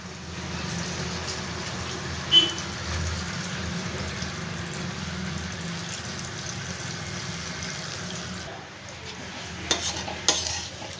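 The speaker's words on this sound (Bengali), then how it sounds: "ভালো করে এগুলোর সাথে মিশিয়ে দেবো।" A spoon stirs a wet spiced lentil and soybean mixture in a pan, with a low simmering sizzle and a few clinks of the utensil against the metal, ending in a burst of scraping.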